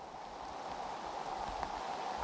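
Heavy rain pouring down on a mountain road descent in the Pyrenees during a bike tour, a dense steady hiss without pause, moderately loud and with no talking.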